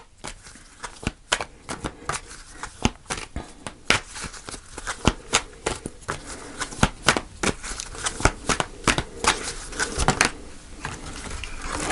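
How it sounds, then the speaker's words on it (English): Tarot cards are shuffled steadily and then pulled in a long run of crisp, rapid riffles and slaps, close and fairly quiet, with a soft voice speaking only briefly. "So let's pull a final card."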